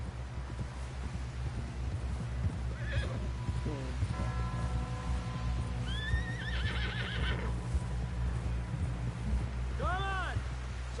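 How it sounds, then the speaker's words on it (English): A horse in the Red Dead Redemption 2 video game whinnies and neighs several times over steady clip-clopping hooves, set against a busy in-game soundscape with low rumble and scattered voices. "Someone help John down off this horse."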